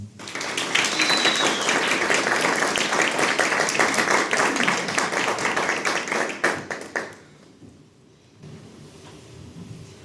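Audience at a theatre event on social issues claps loudly and steadily for about seven seconds to welcome a speaker, then the applause cuts off, leaving a quiet room.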